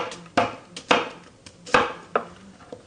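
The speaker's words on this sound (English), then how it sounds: "so we're chopping up some onions right here" Knife chopping onions on a board in a home kitchen, with about six distinct, sharp, uneven chops close by and no talking.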